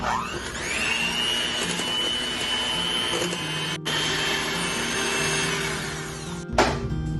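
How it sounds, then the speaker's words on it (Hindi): An electric hand mixer whips cream for homemade peach ice cream, running as a loud, steady whine for several seconds, cutting out briefly twice, then restarting, with no speech. "ये हमारी तकरीबन रेडी हो चुकी है व्हिपिंग क्रीम जो हमने मिक्स की है"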